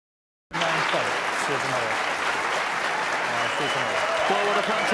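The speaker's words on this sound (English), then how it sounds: "this crowd almost a standing ovation they're getting for that exhibition of snooker" Crucible crowd at the snooker World Championship applauding, sustained loud clapping starting abruptly after a moment of silence and continuing steadily, with a commentator talking over it.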